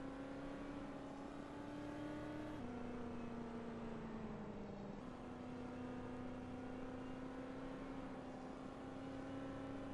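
A race car engine in the Speedway Ringer beta driving game drones steadily at high revs around the track, its pitch sliding up and down with each shift and corner, loud and continuous with no talking.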